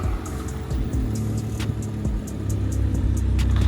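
A BMW car with a newly replaced windshield pulls away, its mid-pitched engine hum steady and gradually growing louder over a rumbling background, with no talking.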